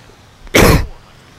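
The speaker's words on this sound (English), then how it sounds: "Oh my god, I can't stop coughing today" A single loud, harsh cough bursts out up close, lasting about a quarter second before trailing off into quiet room tone, heard alone with no talking.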